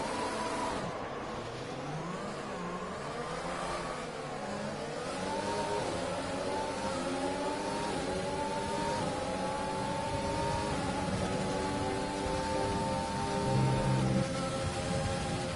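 An F1 car engine in F1 2020 at the Japanese Grand Prix screams and revs, its pitch rising and falling in long sweeps as the car spins, loud and sustained with no talking.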